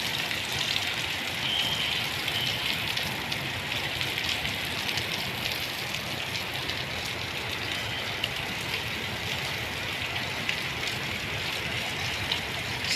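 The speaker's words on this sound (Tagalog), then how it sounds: "malakas pa rin ang ulan ngayon" Heavy typhoon rain pours down steadily, a dense, loud hiss that holds constant from start to finish with no voices.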